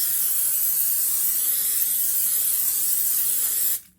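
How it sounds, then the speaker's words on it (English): A continuous hissing spray from a can of olive oil cooking spray onto potatoes, steady and close for several seconds before cutting off abruptly. "I like to add a little bit of olive oil cooking spray to the tops of the potatoes"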